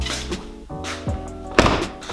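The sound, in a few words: Toyota Supra A90 car door closing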